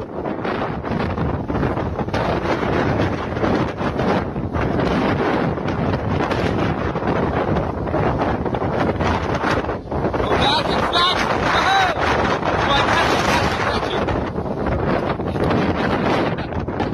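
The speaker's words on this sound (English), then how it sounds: "This cliff has some really strong wind." Strong wind gusting across a cliff top, roaring and buffeting the microphone continuously and loudly throughout with no letup.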